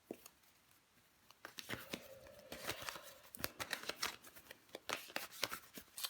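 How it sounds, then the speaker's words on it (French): Tarot cards are handled, shuffled and laid down in quick papery flicks and taps, irregular and close but quiet, with no talk. "Je vais recouvrir des cartes."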